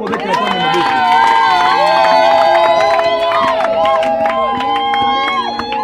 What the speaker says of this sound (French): Est-ce que tu peux acclamer pour le roi des rois?